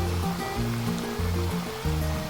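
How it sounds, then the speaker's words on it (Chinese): Potato strips deep-frying in hot oil over medium heat give a steady, close bubbling sizzle that carries on without a break, with a low tonal music-like layer underneath. "等油7、8成烫的时候，下入土豆条。 中火慢炸"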